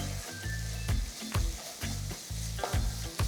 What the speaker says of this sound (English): So after adding the paneer, give it a quick mix.